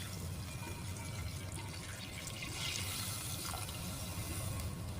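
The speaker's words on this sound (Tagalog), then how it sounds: "Sasabuan lang natin ng tubig." Water is poured into a cooking pot in a home kitchen, a faint, continuous splashing trickle with light dripping that runs steadily from start to finish.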